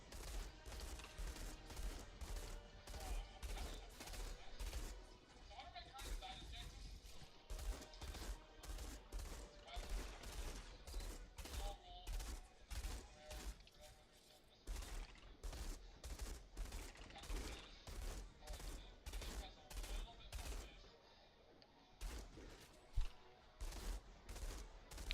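Rapid bursts of shotgun fire in the video game Outriders, dozens of loud, evenly spaced blasts repeating across the whole stretch with brief pauses, dense and up close over a busy game soundscape.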